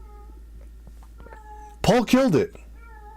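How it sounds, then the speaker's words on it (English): A pet cat lets out two loud, drawn-out meows close by, with a faint voice speaking briefly just before. "My cat wants some commentary as well on this."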